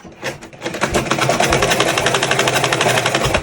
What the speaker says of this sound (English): I'm sewing on the line that I drew before